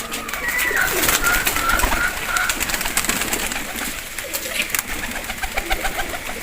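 Pigeons in a loft coo softly and repeatedly over a dense, steady background of fluttering and shuffling birds, close and continuous with no one talking.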